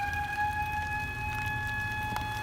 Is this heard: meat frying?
no